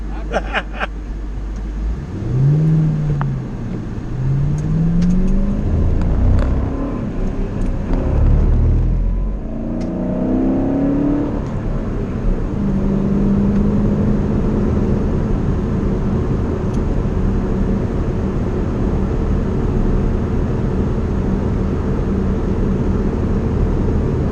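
A car pulls away and accelerates, its engine rising in pitch through several gear shifts before settling into a steady cruising drone, heard loud and close from inside the cabin.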